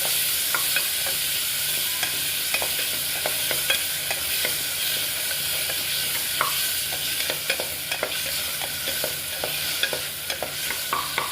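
Tomatoes roasting in oil and ghee in a pan for spinach soup give a steady, close sizzle, broken by frequent scraping stirs throughout.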